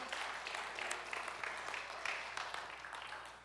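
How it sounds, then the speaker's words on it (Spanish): Church congregation applauding during a service, a soft, steady wash of many hands clapping at a distance with faint scattered accents and no voices over it. "Denle un aplauso a Dios por el mes de junio."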